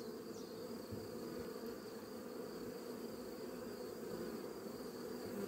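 Honeybees buzzing around hives at an apiary in the Drôme, a steady, dense outdoor hum that continues without a break.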